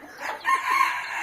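A free-range chicken-farm rooster crows once, close and fairly loud, a drawn-out call rising to a strong middle and holding to the end.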